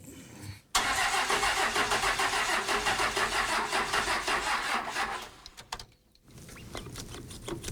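A 1972 diesel ramp truck that has sat for a long time cranks over slowly with its starter, a loud, steady rhythmic churning for several seconds that stops, followed by quieter rattling afterward.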